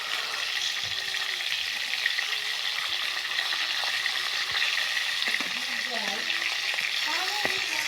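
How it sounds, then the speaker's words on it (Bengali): Rui fish frying in a pan of hot oil, a steady close sizzle with faint scraping and small clinks over it, continuous throughout. "মাছটা আমাদের ভাজা হয়ে গেছে"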